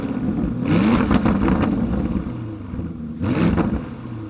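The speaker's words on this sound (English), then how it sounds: "That all-titanium exhaust is also lighter, and it makes the twin-turbo V8 sound even better." Lamborghini Urus Performante twin-turbo V8 breathing through an all-titanium exhaust, revving up loudly around the first second, holding a rough drone, then a second sharp rev near the end, close and alone.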